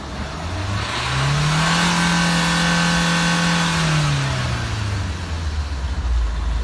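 A Fiat Doblo engine revs hard and steadily during a particulate filter cleaning, its pitch rising, holding high for a few seconds, then dropping back to idle, loud and close with no talk over it.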